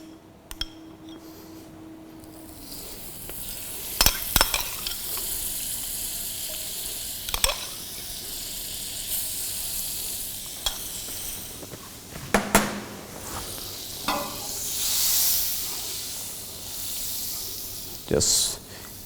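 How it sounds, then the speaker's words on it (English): Butter sizzling as it melts in a hot pan before rice is added, a steady frying hiss broken by a few sharp utensil clinks and scrapes. "So now pan is heated, and I am just adding this butters."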